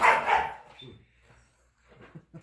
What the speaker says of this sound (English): And the dogs are trying to kill each other.